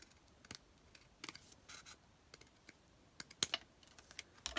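Scattered scissor snips cutting paper while mass-making double envelopes, a few short crisp cuts spaced irregularly and fairly faint, with no talk.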